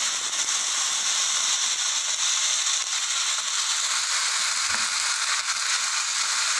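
Adai batter with groundnut oil sizzling on a hot dosa griddle, giving a continuous, even hiss of moderate loudness with no speech over it.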